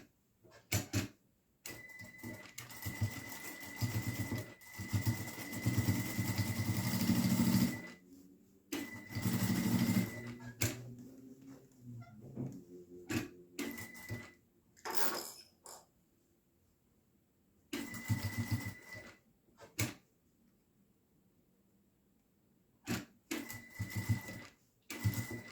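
A sewing machine stitching a fabric toilet-paper holder, running in several short bursts of rapid whirring separated by quiet pauses, close and fairly quiet.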